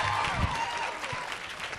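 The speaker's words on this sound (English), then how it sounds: "Clap for yourselves." A crowd at RuPaul's DragCon 2016 claps in broad, dense applause that fills the room at steady loudness, with a few voices briefly cutting through.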